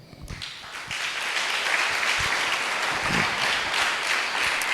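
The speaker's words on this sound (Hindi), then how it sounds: "ओके, एक अच्छी ताली।" An audience breaks into applause, starting with a few scattered claps that quickly swell into steady, dense clapping held at full strength to the end.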